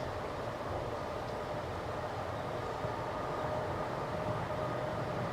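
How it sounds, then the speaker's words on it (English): A steady, continuous rumble of a passing train fills the background, even and unbroken throughout, heard at a distance with no talk over it. "That's a fact that a train is going by."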